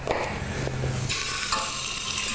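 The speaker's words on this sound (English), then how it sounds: "We're gonna brown the meat in a little bit of olive oil." Meat sizzles and browns in a little olive oil in a hot pan, a steady close frying hiss with stirring scrapes and a louder burst of sizzle as food shifts.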